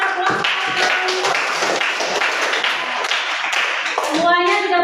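Schoolchildren clapping together in a classroom for the best group, a dense continuous patter of many small hands, close and steady throughout, with kids' voices mixed in and higher chatter near the end.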